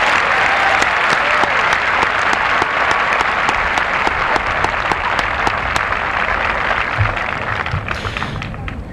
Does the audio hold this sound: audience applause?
yes